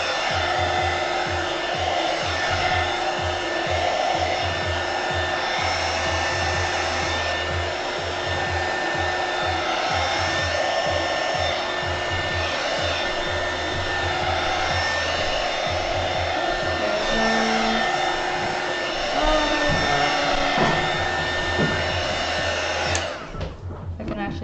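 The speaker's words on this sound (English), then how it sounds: "I apologize for my loud heat gun." A loud heat gun blows air steadily over alcohol inks, a constant whirring hiss that runs unbroken for over twenty seconds before cutting off at the end.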